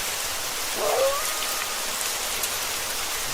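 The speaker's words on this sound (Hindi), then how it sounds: "हर तरफ जोरदार बारिश हो रही थी" Heavy rain hisses down in a dense, steady wash, with a brief faint whimper-like sound early on, no voices present.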